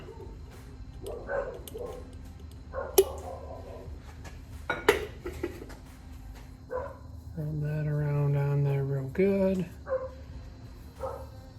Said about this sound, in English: Dogs are out there getting into something.